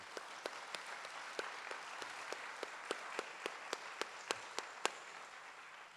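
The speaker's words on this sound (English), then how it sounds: "let's give them, a round of applause to start with" A small group claps steadily at an academic award ceremony, with sharp, sparse hand claps standing out over a soft wash of applause, fading near the end.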